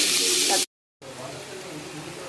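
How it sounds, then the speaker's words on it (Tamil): Finely chopped onions sautéing in oil with curry leaves, making a close steady sizzle that cuts out briefly and then returns softer. "நான் 2 பெரிய வெங்காயத்தை பொடியாக அரைஞ்சி அதில் போட்டுருக்கேன். இது நல்லா வதக்கி எடுத்துப்போம்"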